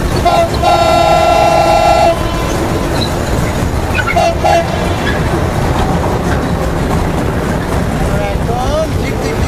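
A train passes at an eco resort and nature park in Gopalganj, sounding a loud steady horn for about two seconds, then a short toot, over continuous rumbling wheel noise.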